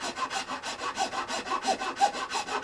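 Filing the nut of a Martin D42 acoustic guitar, a quick run of about a dozen rhythmic rasping strokes of file on nut slot, close and evenly paced, with no talking.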